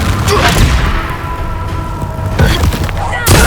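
A Confringo blasting spell detonating in Hogwarts Legacy, loud booming thuds over a rumbling battle bed with a fresh blast near the end, while someone shouts spell names in between.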